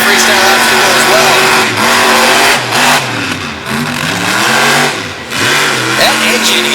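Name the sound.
monster truck engine screaming, possible transmission problem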